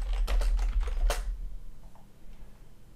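Rapid bursts of typing on a computer keyboard, close and clear for about a second, then stopping into quiet room tone.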